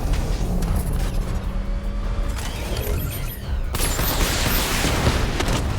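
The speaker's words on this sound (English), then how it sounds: "Charge up missile barrage to level 2 and destroy 4 active targets" A missile barrage fires in Batman: Arkham Knight, a dense rumbling roar of launches and blasts with mechanical whirring, growing louder and brighter in the second half with no voices.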